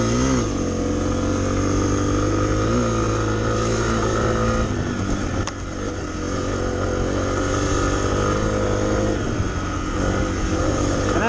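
A 2023 Honda CRF250F dirt bike being ridden, its engine droning loud and steady with small throttle swells and one brief dip, heard close up throughout.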